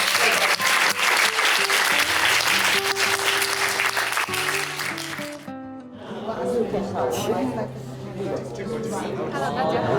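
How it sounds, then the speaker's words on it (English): Audience applause at the close of a class session, dense clapping sustained throughout with a crowd murmuring beneath it and a tonal hum in the first half, thinning slightly midway before swelling again. "Give yourselves a round of applause."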